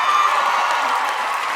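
Audience at an awards ceremony in Manchester, UK, bursts into sustained applause mixed with cheering and whoops, a dense steady crowd roar with no clear breaks.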